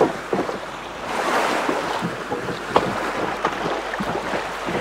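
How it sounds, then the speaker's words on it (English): Waves wash onto the beach of a small cove while a rowing boat is hauled up out of the water, a steady, close surf wash with wind buffeting and a few brief thumps, with no one talking. "All out and let's heave the boat up onto the beach."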